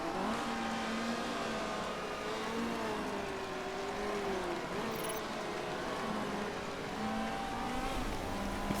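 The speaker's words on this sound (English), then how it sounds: "the other cars continue to fly by" Several race cars in the Motorsport Manager game drone past at the Ardennes circuit, engines whining and shifting in overlapping tones, steady and fairly faint with no voices.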